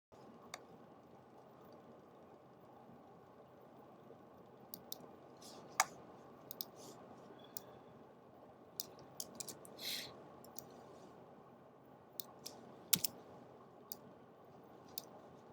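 Computer mouse clicks while adjusting fonts on a display board layout, faint and sparse, scattered single and double taps against a quiet background.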